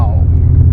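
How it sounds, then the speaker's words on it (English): Deep, throaty idle rumble from the V6 exhaust of a 1991 Acura NSX, heard close and briefly under a man's speech. "It's not obnoxious, but it's still kind of throaty, and it's pretty good for a V6."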